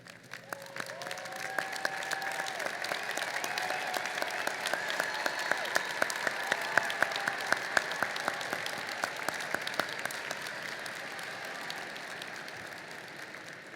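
Commencement audience applauding honors graduates, a sustained roar of many hands with crisp individual claps poking through, steady for over ten seconds before gradually tapering; a brief tonal sound is heard near the start.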